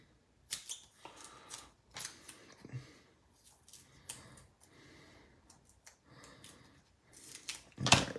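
Card stock being cut with scissors while making a Halloween card: a series of crisp snips at irregular intervals, close and fairly quiet, ending in a louder rustle of handling.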